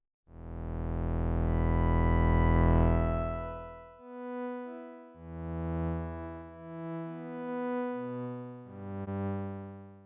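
Sustained synthesizer pad with saturation, a thick harmonically rich chord swelling in for about four seconds, then a series of shifting held chords with gritty added overtones, loud and alone with no voices.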